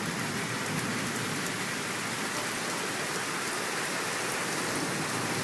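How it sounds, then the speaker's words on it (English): Heavy summer storm rain pours hard and steady, a loud, unbroken hiss of drops hitting surfaces with no pauses or voices. "when it does rain, it rains hard"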